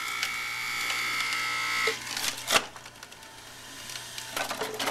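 A Jack Lalanne electric juicer grinds carrots, a motor whine with clattering, splintery crunches as pieces are pushed down the chute, one loud burst midway, then a quieter rattling run.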